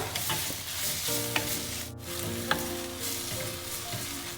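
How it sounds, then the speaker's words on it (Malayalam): Onions with salt sautéed and stirred in a pan for a crab roast, a steady sizzle of frying with a few scraping clicks of the spoon, close and continuous. "ഉള്ളി ഒന്ന് ചൂടായി കഴിഞ്ഞ് കഴിഞ്ഞാൽ അതിലേക്ക് ആവശ്യത്തിനുള്ള ഉപ്പ് ചേർത്ത് കൊടുക്കാം. നമുക്ക് വീണ്ടും നന്നായി വഴറ്റുക."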